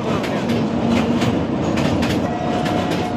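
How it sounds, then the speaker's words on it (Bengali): A train running across a railway bridge near Mahimaganj station, a loud, steady rumble with rhythmic clickety-clack of wheels on the rails and a faint metallic squeal, close by throughout. "রেল ব্রিজটির সৌন্দর্য উপভোগ করতে করতে ইতিমধ্যে চলে আসলো ট্রেন"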